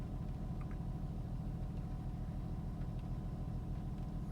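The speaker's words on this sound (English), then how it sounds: "I think it's idling better now." A Honda Pilot engine idles steadily after an oxygen sensor replacement, giving a smooth, continuous low rumble close by for the whole stretch with no talk over it.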